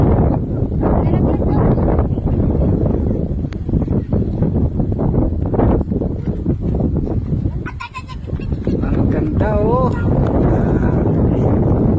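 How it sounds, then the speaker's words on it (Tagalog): Heavy wind buffets the microphone in a constant low roar, with people talking over it and a brief bleating call near the end. "Lakas ng hangin."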